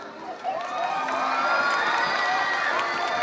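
A live audience at a televised variety dating game in 2011 cheers and shouts loudly, building into sustained crowd noise with some applause mixed in.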